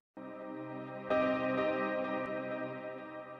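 A reversed piano sample from a progressive house breakdown swells in with a sustained tonal wash, jumps louder about a second in, then holds bright, bell-like and steady until the end, with no one speaking.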